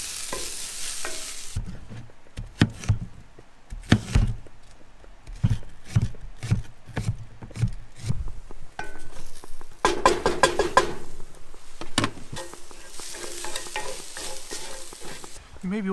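Vegetables sizzle and fry in a pan at a riverside car camping cookout beside a Land Rover, with repeated sharp scraping strokes of a utensil stirring them, the hiss rising louder in the latter half.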